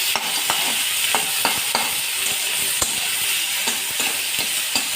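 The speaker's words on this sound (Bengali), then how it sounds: "তার সঙ্গে পেঁয়াজটাও কিন্তু অনেকটা ভাজা হয়ে যাবে" Onion and hybrid tomato fry in a pan, a steady close sizzle broken by repeated scraping, tapping strokes of a spatula as the mixture is stirred, with no talking.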